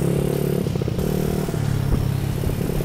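An automatic scooter motorcycle drones close by at a steady engine hum with rattling clatter and slight shifts in pitch as it rides along, loud and continuous with no voices.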